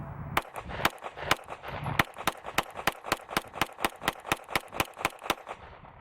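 Rapid string of sharp pistol shots from a Glock 17 carrying an Olight weapon light at a range, about twenty loud cracks in quick, fairly even succession.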